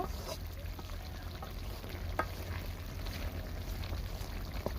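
Broth is poured into a pot of sautéed radish curry in a village kitchen. It makes a steady, close liquid rush that runs unbroken over a low background hum.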